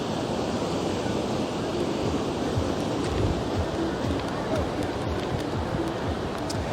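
Surf washing ashore at Tamarindo Beach, Costa Rica, a steady, dense roar of breaking waves mixed with wind buffeting the microphone, continuous and fairly loud throughout.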